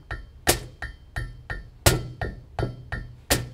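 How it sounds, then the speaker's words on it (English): A snare drum and hi-hat play a steady backbeat, crisp alternating hits at an even tempo, close and clear with no talking. "And now we've got our snare drum and we've got our hi-hat, which are the 2 components of the backbeat."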